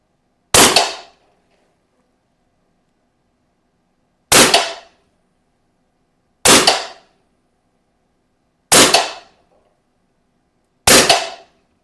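Five sharp, loud shots from a Western Rattler air gun crack out alone at irregular intervals, each a short snap with a quick ringing decay and silence between.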